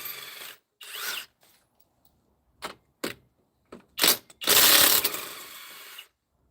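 A ratchet wrench fits new Dyna Pro lug nuts onto a wheel. Short clicking bursts come in an irregular stop-start pattern, separated by silent gaps, then end in a longer, louder spell of ratcheting. The sound is close and no one talks.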